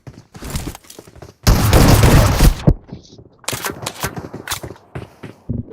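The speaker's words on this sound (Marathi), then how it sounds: "गोळ्या मारल्या मी" Rapid bursts of shotgun fire from DBS and S12K shotguns in a video game, a dense loud volley in the middle with scattered shots before and after, all under excited talk from players.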